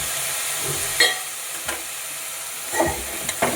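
Chopped tomatoes with salt frying in a pan as a spoon stirs them: a low sizzle broken by a few distinct scraping strokes against the pan, no voices.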